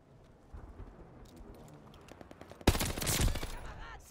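Gunfire in Call of Duty Vanguard: faint scattered shots at first, then a sudden loud, dense barrage of rapid overlapping bursts that keeps going to the end.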